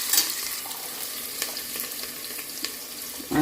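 Onions fry in a pan with a continuous crackling sizzle, punctuated by a few light stirring scrapes and a brief clatter near the end; no one speaks.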